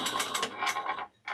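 A home sewing machine runs a short burst of stitching along a handbag seam, its needle clatter close and steady before it stops briefly and starts again.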